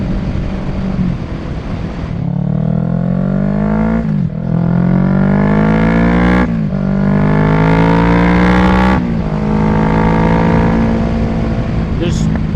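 Motorcycle accelerating through several gear shifts, the engine note climbing repeatedly and dropping at each change, loud and close, with a voice talking over it.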